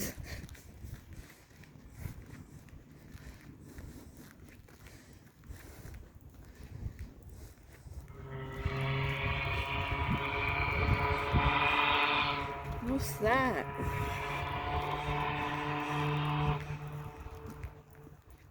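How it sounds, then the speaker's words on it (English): A low, sustained boat horn blares at a distance for several seconds, with a brief question spoken quietly before it. "Sounds like a boat horn."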